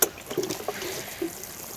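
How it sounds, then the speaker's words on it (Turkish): Water trickles softly onto newly sown cucumber seeds in a garden bed, a faint, continuous dribble with no voices. "Şimdi can suyunu veriyoruz."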